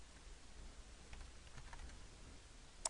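Quick light keystrokes on a computer keyboard, a short burst of faint clicking taps close to the microphone with no talking.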